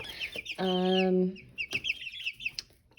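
Chicks in a brooder box clucking and cheeping close by, with a sustained loud squawk early on followed by scattered short clucks and peeps.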